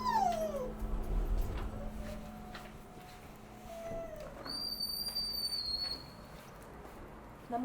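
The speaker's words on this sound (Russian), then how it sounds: "Че скулим?" A dog whimpers close by in a series of high, wavering whines and thin rising squeaks, fairly loud against a quiet indoor background, with no talk over it.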